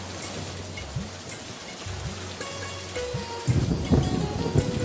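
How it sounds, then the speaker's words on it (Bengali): Rain falls steadily in a village cartoon scene on a monsoon day as a dense, hissing wash of drops, with light tonal accents and a louder burst of heavier downpour near the end. "বৃষ্টির পানিতে ভিজতে ভিজতে নদীতে মাছ ধরতে যায়"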